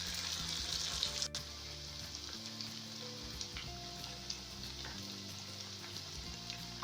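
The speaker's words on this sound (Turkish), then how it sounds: "Bu şekilde önlü arkalı tamamen kızarana kadar hepsini kızartacağız." Steady crackling sizzle of dough for syrup-soaked Ramadan desserts frying in hot oil, close and continuous, with faint clinks and low hum underneath.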